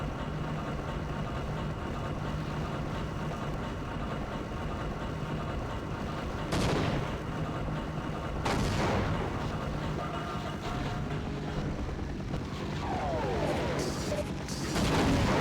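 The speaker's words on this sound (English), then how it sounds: "Artillery strikes and shit." Rumbling artillery strikes in the PS2 version of Half-Life, a continuous low roar of engine-like noise broken by sharp explosive bursts around the middle and later, with no talking.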